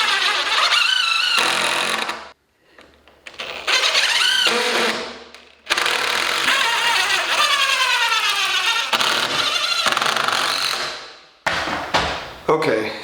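Power saw cutting through a wooden wall stud during load-bearing wall removal: loud close whining bursts of cutting with rising and falling pitch, stopping and restarting several times with short pauses between.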